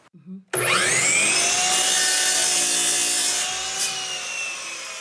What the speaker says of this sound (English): lowers the handle on a chop saw to trim a piece of wood